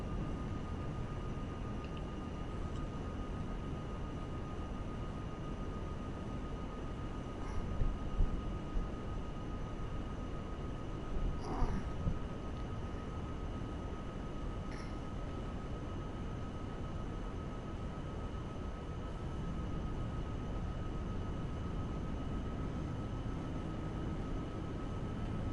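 An airplane in GTA 5 drones at a steady engine hum throughout, with a constant tonal whine and a couple of brief louder bumps partway through.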